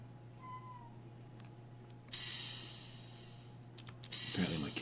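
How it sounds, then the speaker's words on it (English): A kitten meows close to the microphone, with two drawn-out cries and a softer call at the start, over a steady electrical hum and a few light clicks. "Apparently my kitten wanted to say hello."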